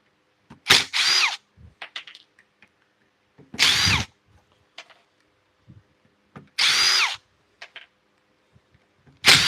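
A cordless power drill backs screws out of wood in three short, loud whirring bursts at a steady pace, with small clicks and handling noises between them.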